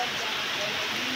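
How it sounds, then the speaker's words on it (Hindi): Heavy rain falls in a steady, hissing wash of broadband noise, loud and unbroken throughout with no other sounds standing out. "आप देख सकते हैं कितना बिजोड़ बारिश हो रहा है।"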